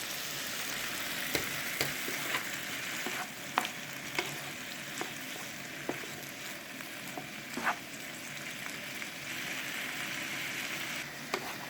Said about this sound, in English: I'm gonna add our red hot dried peppers and then 2 daphne leaves